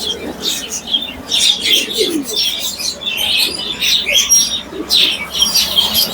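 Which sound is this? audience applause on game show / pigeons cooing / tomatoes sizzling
pigeons cooing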